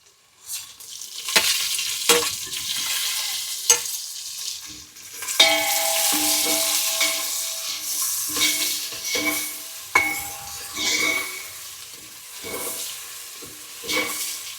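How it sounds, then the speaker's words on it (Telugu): Chopped tomato pieces dropped into a pan of frying prawn pulao, with oil sizzling and hissing and a spoon scraping and stirring in repeated bursts, close and fairly loud throughout. "తరిగి పెట్టుకున్న టమాటా ముక్కలు వేస్తున్నా"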